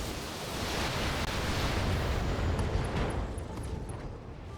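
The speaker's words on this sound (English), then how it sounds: "Ammo explosion." A mech's ammunition detonates in the BattleTech video game, a sustained roaring blast of broad rumbling noise that swells and slowly fades over several seconds.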